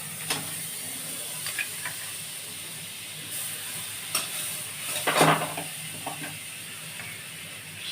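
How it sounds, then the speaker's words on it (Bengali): Butter sizzles in a kadai (wok) while being heated for a malai egg korma, a soft steady frying hiss with scattered crackles and a few louder spatters and stirring clatters near the pan. "আমি এই কড়াইতে বাটার দিয়ে দিচ্ছি"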